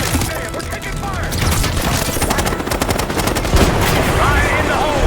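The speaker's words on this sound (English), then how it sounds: "we're taking fire!" Incoming aircraft raining gunfire in the Black Ops 6 game, dense rapid bursts of loud automatic fire with crashing impacts and mechanical clatter, voices shouting faintly under the shooting.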